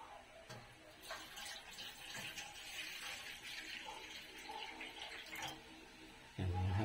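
Tap water pouring into a pot for steaming lapu lapu fish, a steady, fairly soft splashing stream with a brief clunk near the end.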